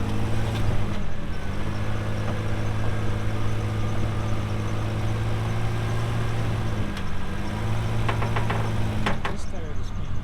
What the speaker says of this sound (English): This tire is spinning.